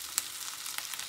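Spinach sizzles quietly in hot oil in a pan, a steady soft hiss with faint crackles, heard alone and fairly close.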